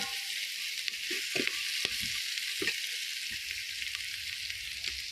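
Onions frying in oil in a pan for veg pulao, giving a steady bright hiss with occasional stirring knocks, close and continuous.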